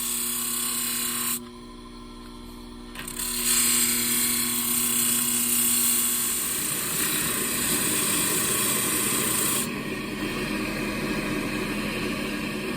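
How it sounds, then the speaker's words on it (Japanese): A rusty machete is ground on a coarse 40-grit stone, giving a steady, close abrasive rasp that runs almost continuously, briefly dipping before swelling louder and rougher. "では一番分厚い40番で これちょっと削っていきたいと思います"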